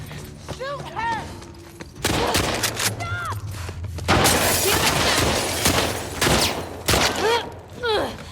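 Gunfire in The Last of Us Part II comes as bursts of fusillade shots between about 2 and 8 seconds, loud and close, mixed with game voices and shouting.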